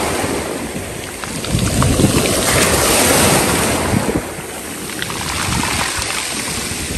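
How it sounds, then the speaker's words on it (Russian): Stormy sea surf at Lazarevskoye on the Black Sea, waves breaking loudly and continuously on a steep pebbly shore, with gusty wind rumbling across the microphone throughout. "Опять сегодня шторм"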